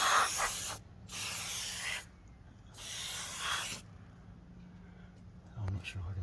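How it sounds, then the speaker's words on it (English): A spray nozzle squirts lubricant into the top track of a Stegbar sliding door in three loud, sustained hissing bursts, each about a second long, followed by quiet handling noise. "just put the nozzle in and give it a wee squirt"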